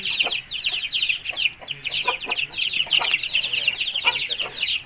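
A Thai cross Aseel rooster clucks close by in quick repeated bursts, with a rapid chattering series running through most of the few seconds.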